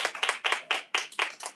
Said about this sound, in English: Clap it up for the gentlemen